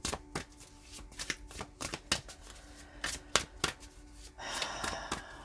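A tarot deck is shuffled by hand: quiet, rhythmic card slaps and flutters, ending in a longer, brighter riffle, close and with no voices.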